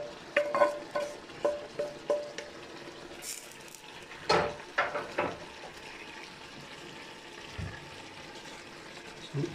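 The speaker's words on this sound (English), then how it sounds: "Now I'm going to add my bacon, already fried. I'm going to add that to the mix." Already-fried bacon being added to a bean mix and stirred, a run of rhythmic scraping and clinking strokes against a pot, then quieter shuffling and a few separate knocks, close and without talk.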